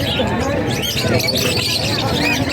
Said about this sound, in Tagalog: Ang daming ibon, boss.